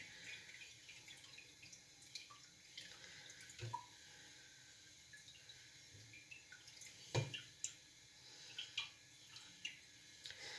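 Homemade organic vinegar drips through two layers of cheesecloth, giving faint, sparse, irregular drops and small splashes against a quiet background.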